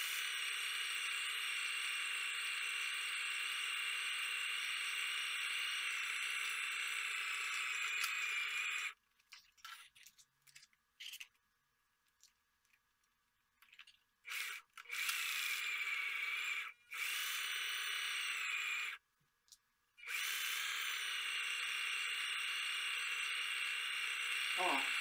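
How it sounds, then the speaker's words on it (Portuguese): A sewing machine stitching seams on TNT non-woven fabric packaging, giving a steady whirring hum that stops and restarts several times with brief quiet gaps; no talking. "nós vamos fazer a costura agora"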